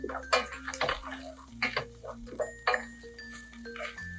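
Dry shrimp being sauteed in a pan in a hotel kitchen, with close scraping and clinking of a spatula against metal over a soft continuous sizzle, in irregular strokes, no talk.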